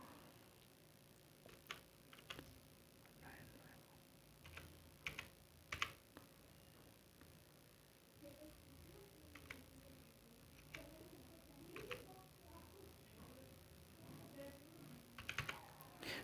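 A computer keyboard clicks as a phone number is typed, a quiet series of irregular key taps spread over the stretch with faint background hum.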